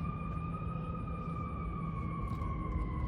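A siren wails continuously in the distance, a steady tone sliding slowly downward over low rumbling traffic noise.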